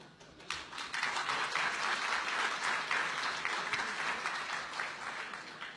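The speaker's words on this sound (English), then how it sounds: "clapping their hands every sentence" A crowd listening to a speech breaks into dense, sustained applause, many hands clapping together in a loud continuous wash that swells after a moment, then holds and slowly eases.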